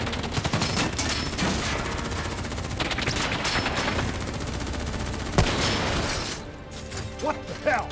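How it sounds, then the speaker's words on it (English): Gunfire crackles in the video game Call of Duty: Black Ops 3, with rapid bursts and mechanical clatter running loud and continuous throughout, ending in a few sharp separate shots. "Who's shooting?"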